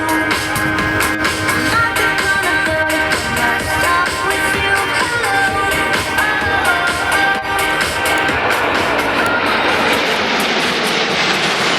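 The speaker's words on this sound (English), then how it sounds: "they will come back in front of you in this formation for the second flyby" Patrouille de France jets making a formation flyby at an airshow at Leuchars, a loud, sustained roar of several jet engines passing overhead, steady throughout and slowly shifting in tone as they go by.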